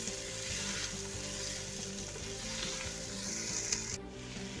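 Carrots hit a hot pot of oil for a mixed vegetable sabzi, setting off a steady, close crackling sizzle that runs unbroken with faint stirring.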